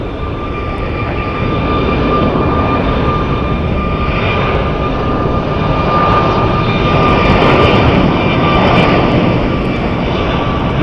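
An American Airlines jet lines up on the runway at Phoenix Sky Harbor, its engines a loud, steady roar with a faint whine on top, continuous and without talk.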